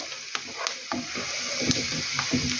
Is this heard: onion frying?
yes